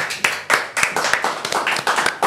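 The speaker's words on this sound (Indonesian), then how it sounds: "Tepuk tangan dulu." A studio audience at an Indonesian podcast taping claps in a quick, uneven patter of close, sharp hand claps that continues throughout without any talking.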